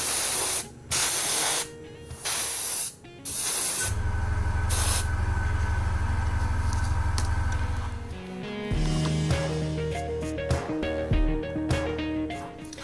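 Airbrush or spray can hissing as a thin coat of paint goes onto a B-25 Mitchell scale model, several short bursts and then a longer steady spray, close by, with workshop noise and no talk.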